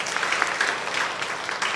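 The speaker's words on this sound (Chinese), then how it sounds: "我们拍掌把一切荣耀归给神。" A church congregation claps together during a Mandarin Sunday worship service, an even, sustained wash of applause from many hands, moderately loud and steady with no pauses.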